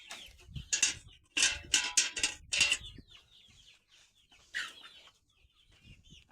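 Several chickens cluck and squawk in quick, uneven bursts close by, followed by a quieter pause and one more squawk.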